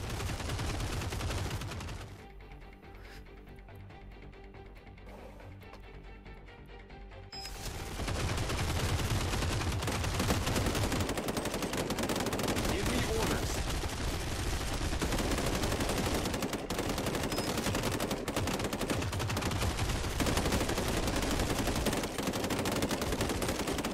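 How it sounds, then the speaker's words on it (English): Enemy soldiers in a video game open up with rapid gunfire: after a brief quieter stretch, dense, continuous automatic bursts rattle on loudly and steadily for most of the span, with no talk. "These guys suck at shooting."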